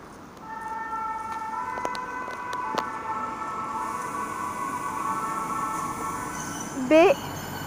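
A TER AGC Haute-Normandie regional train at Elbeuf-Saint-Aubin station, bound for Caen from Rouen-Rive-Droite: a sustained steady tonal drone with a few sharp clicks, then a short loud rising horn-like whine near the end.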